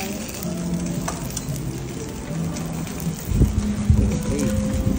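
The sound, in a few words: ribeye steak sizzling on hot stone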